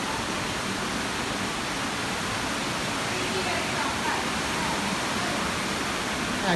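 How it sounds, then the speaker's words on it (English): Water pours over rimstone dams inside a cave in a loud, constant broadband rush, close and unbroken throughout. "We're lucky enough to have this water still flowing across."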